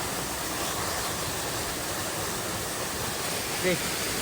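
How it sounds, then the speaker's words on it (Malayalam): Manipara waterfall in Kerala pours in a steady, unbroken roar of rushing water, loud and close, with no pauses from start to end. "ഇതാണ് ആ വെള്ളച്ചാട്ടം"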